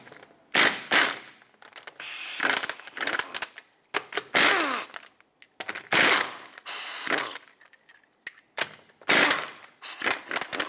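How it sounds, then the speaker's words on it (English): A 19mm socket on a ratchet loosening the lug nuts on a Jeep Compass wheel, bursts of rapid close clicking pawl ratcheting separated by short silent pauses, loud and dry. "Use a 19mm socket, remove all 5 of your lug nuts"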